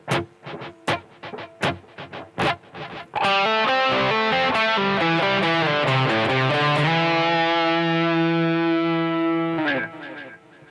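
Electric guitar with effects and light distortion plays a major pentatonic lick: a few muted picked notes, then a fast flowing run ending on a long sustained bend that fades.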